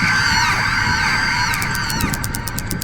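High, strained screams ring out in a haunted-school video game, sustained and wavering over a noisy background. Rapid pulsing tones follow in the second half.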